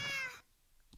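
A pet cat in Minecraft lets out a single short, clear meow at the start, followed by near silence with a faint tick at the end.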